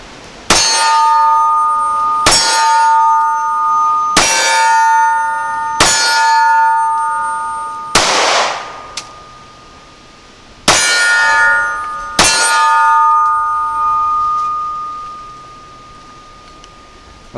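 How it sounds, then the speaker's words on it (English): A SCCY CPX1 Gen2 pistol with a magazine problem, firing Winchester ammunition, lets off seven loud sharp reports at uneven intervals of about two seconds. Each is followed by a ringing metallic tone that lingers, with no talking. "I fired another one high"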